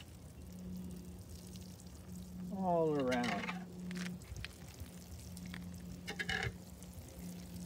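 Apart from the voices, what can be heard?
water poured onto potted plants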